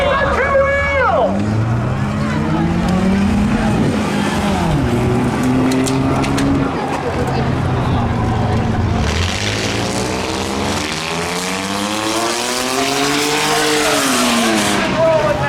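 Cars racing and rolling over in the Wreckfest video game during a stunt show at Hudson Speedway, engines revving and sweeping up and down in pitch with tire noise, while people talk excitedly over them throughout.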